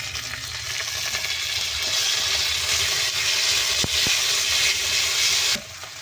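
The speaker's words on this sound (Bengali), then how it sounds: "পেঁয়াজ ভাজা হয়ে গেছে লাল লাল করে এবারে আদা আর রসুন একসঙ্গে" Onions browned to a deep red fry loudly with ginger and garlic in a hot pan. The close, steady, vigorous sizzle is punctuated by a couple of stirring knocks and eases off near the end.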